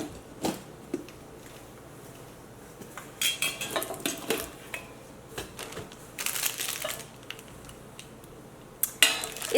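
A metal tadka spice box is opened in a kitchen, its lid and small tins knocking and clattering in irregular metallic clinks and rattles, some louder bursts between quieter handling.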